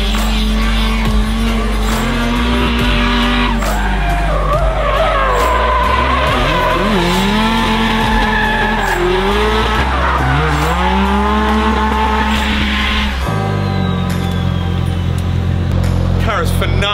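Drift car sliding at big angle with sustained, wavering tire squeal and a revving engine rising and falling, loud and close for most of the stretch, with a voice talking over it.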